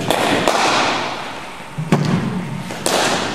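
A cricket bat strikes the ball in net practice, giving a few sharp, isolated thwacks spaced over a couple of seconds against open outdoor background noise.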